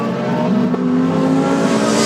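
A GT race car sweeps past on the Shanghai circuit, its engine note sustained and loud with a steady tonal drone across the two seconds, no voices over it.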